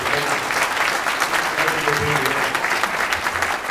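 A room of attendees at a chamber breakfast applauds mayoral candidates, a steady, fairly close burst of clapping that stays full and even for the whole few seconds.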